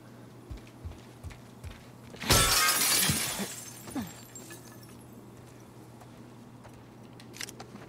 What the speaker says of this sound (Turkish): İlla camı kırıp içeri gireceğiz